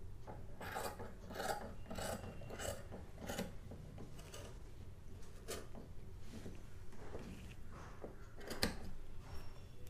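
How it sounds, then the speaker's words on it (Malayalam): Scissors cutting a fabric shirt collar in a round shape at the neck, a close series of crisp snipping and rasping strokes, irregular in rhythm, with no talking. "ഹാഫ് ഇഞ്ചോളം ഒരു നെക്ക് ഞാൻ മാർക്ക് ചെയ്തിട്ട് പിന്നെ നല്ല റൗണ്ട് ഷേപ്പിൽ കട്ട് ചെയ്തെടുക്കാം."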